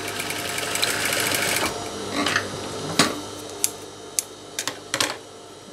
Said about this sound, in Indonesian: Kemudian kita jahit karetnya dulu.